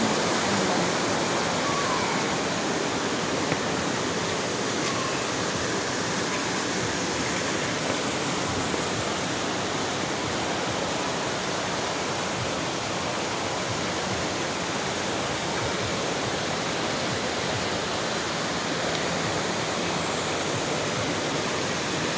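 A waterfall at a travel spot in Barcelona, Sorsogon rushes in a dense, loud, unbroken roar that stays steady the whole way through, with no voices heard.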